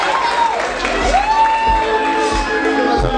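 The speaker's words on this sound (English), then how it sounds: "So, round of applause for these guys" A live podcast show crowd claps, cheers and whoops loudly and close by, with shouted voices and whistle-like tones over the noise.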